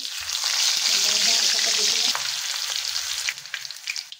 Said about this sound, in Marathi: आता ना कचोरी बरोबर खायसाठी आपल्याला मिरच्या तळायच्या